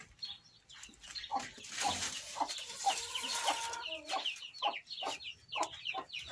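A mother hen with chicks clucks repeatedly in soft, irregular bursts, nearby, with some rustling and other fowl noise around her.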